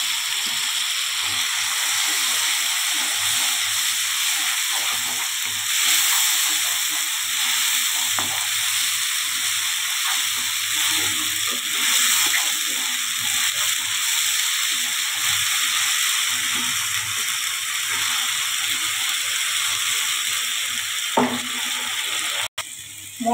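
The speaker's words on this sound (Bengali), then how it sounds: "আমাদের বেটে রাখা পেঁয়াজ আর রসুনের পেস্টটা দিয়ে দিই।" Onion and garlic paste hits hot oil in a pan for a fish curry, making a steady loud sizzle and hiss that runs unbroken, with light stirring scrapes and a sharp clatter near the end.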